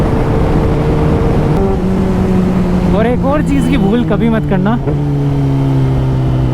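A Kawasaki ZX10R superbike cruises on a highway, its engine a loud steady drone close by that shifts pitch and rises in a brief burst of revs, while someone talks over it.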